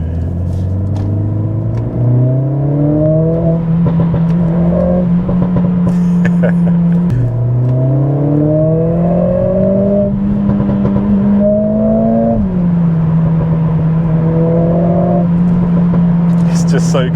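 A Mercedes CLA45 S AMG with a new exhaust revs hard and accelerates through several gears, its loud, close engine note climbing in pitch and dropping briefly at each shift.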